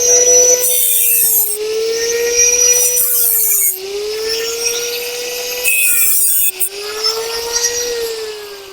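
A power tool grinds loudly and steadily close by while cutting off protruding screw ends, its whining pitch dipping and rising as it bites into the metal, with bursts of harsher cutting noise.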